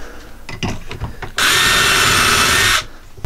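A power drill whirs loudly for about a second and a half, boring into a camper van wall on an Iveco Daily conversion after some faint handling clatter.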